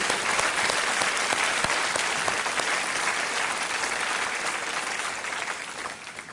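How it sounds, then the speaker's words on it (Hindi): Studio audience applause on a Kaun Banega Crorepati game show set, a dense, steady wash of clapping from a large crowd that holds loud and even throughout, easing slightly toward the end. "आपके लिए हम ताली बजाना चाहेंगे"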